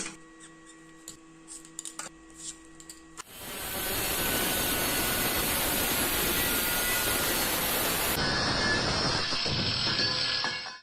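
A handheld angle grinder cuts through a 45x45 mm steel angle bar, snipping off a 150 mm piece: after a few seconds of quiet workshop clinks, a loud, steady, harsh grinding screech runs for about six seconds, then softens as the cut finishes.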